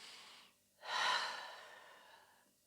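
A slow, deep breath is drawn in during a gentle stretching exercise for pregnancy and postpartum, one soft, close airy inhale that swells and then fades, with quiet breath noise before it.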